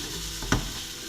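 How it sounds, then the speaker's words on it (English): Chicken pieces frying in a pan for a penne dish, a steady close sizzle with a brief clatter of stirring midway, no voices. "this is just frying quite nicely"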